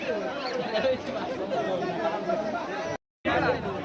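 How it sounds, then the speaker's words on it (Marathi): Many people talk at once in a thick, continuous babble at a crowded temple festival for a kalash installation at Bal Bhairavnath temple, the hubbub briefly cutting out near the end before resuming. "किती लोकांची गर्दी आहे मित्रांनो या साईडला पण बघा तुम्ही।"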